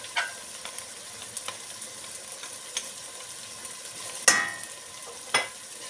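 Tomato paste sautéing in a pan while making meatballs with peas, a soft steady sizzle with a few sharper crackles and spatula stirs close by.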